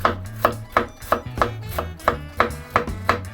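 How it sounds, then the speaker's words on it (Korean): A kitchen knife that is not freshly sharpened thinly slices an onion on a cutting board, giving steady, evenly spaced chops about three per second, close and crisp, with no talking. "양파를 먼저 채 썰어줄 건데 가장 얇은 두께로 썰어주시면 돼요"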